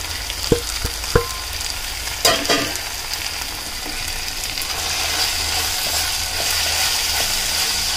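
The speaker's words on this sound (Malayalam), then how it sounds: "നന്നായിട്ട് വഴറ്റി കൊടുക്കാം." Spices and masala for a crab roast sautéed in a pan, with a steady low sizzle running throughout and a few sharp clinks of a spoon stirring near the start.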